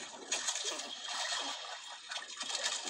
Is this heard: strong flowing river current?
yes